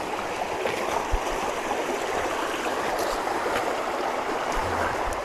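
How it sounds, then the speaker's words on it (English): Steady broadband rush of a stream at a water crossing on a forested backpacking trail, flowing water close by and continuous, with no voices over it. "looks like we got some sort of water crossing"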